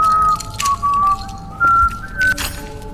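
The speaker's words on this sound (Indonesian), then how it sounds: "Pria itu yang bahagia dan tanpa sadar meniup peluit di garasi bawah tanah." A happy man whistles a tune to himself in an underground garage in a horror short film: several clear, sustained whistled notes in short phrases, close and moderately loud over faint room noise.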